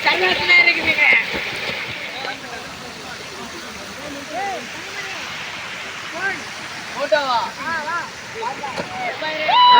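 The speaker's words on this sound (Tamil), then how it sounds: "இந்த அணையோட ஒரு இடத்துல மட்டும்தான் தண்ணீர் மேலேருந்து ஊற்றிட்டு இருக்கு" Water pours down from one spot on the dam at Anai Medu falls near Tharamangalam in Salem district, a constant broad rushing roar running throughout while people talk over it.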